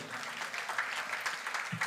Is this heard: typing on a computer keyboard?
no